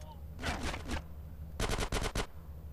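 Bursts of automatic gunfire from the video game GTA San Andreas, two loud rapid volleys of several shots each, close and sharp, over a steady background hum.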